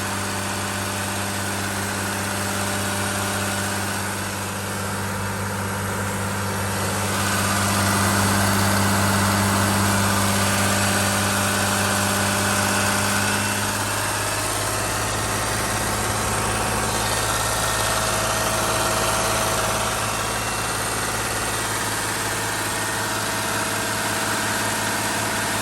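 A Mercedes Sprinter NCV3 engine idles steadily with a constant low drone and vibration, its exhaust air hissing from a leak throughout, swelling slightly louder midway before settling back, with no talking.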